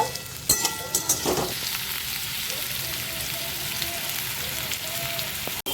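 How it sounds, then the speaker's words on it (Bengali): Potatoes fry in a wok with a steady, close sizzle and a few stirring knocks near the start, the crackle holding evenly to the end with no voices. "আলুটা আমি ভেজে নেব।"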